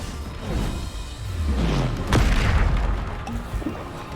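A Bombarda spell explosion in the video game Hogwarts Legacy, a loud, deep boom with a descending rumble, followed by a second heavy blast and scattered debris crackle.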